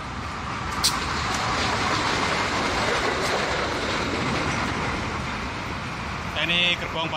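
A short train hauling two ballast wagons rolls past close by at about 40-50 km/h, a dense steady roar of wheels on rails with some metallic squeal near the end.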